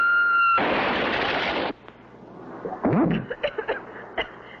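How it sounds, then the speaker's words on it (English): Cartoon explosion as a projectile strikes a ship's deck: a loud, close blast that holds for about a second, then cuts to quieter scattered pops and crackles as debris settles. "Wow, what an explosion."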